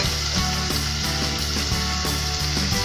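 Dried shrimp sizzle in a hot pan for a Hakka abacus seeds dish, a steady close crackle with a faint rhythmic pulse of stirring and no talk.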